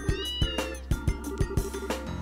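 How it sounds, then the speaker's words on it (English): A cat meowing in the role-playing game Trails in the Sky, a run of short clear meows repeated in a quick uneven rhythm over a steady musical background, loud and close with no talking. "Oh, it's the cat I saw on the ship."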